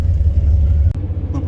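A tour bus rolls through a city in Singapore, giving a loud, deep, steady engine rumble and road drone heard from inside the cabin, with a brief knock near the end and no clear talking.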